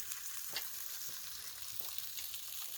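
Meat frying in a pan, a steady soft sizzle with faint scraping stirs, close and alone.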